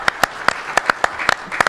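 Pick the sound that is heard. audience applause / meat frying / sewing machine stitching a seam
audience applause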